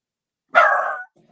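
A puppy lets out a single sharp bark indoors, close and loud against silence, followed by a faint trailing whimper.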